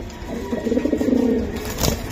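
A Giribaz racing pigeon coos close by, a soft repeated throaty warble, followed by a brief rustle. No talking.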